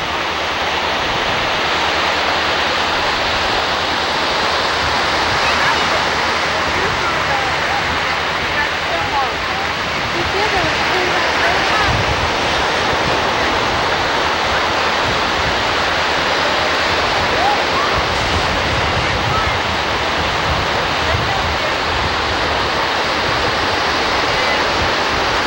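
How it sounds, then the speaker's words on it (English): Ocean surf along the Florida coast roars as a loud, steady wash of broadband noise with no clear breaks, close and constant for the whole stretch. "There's the beautiful ocean."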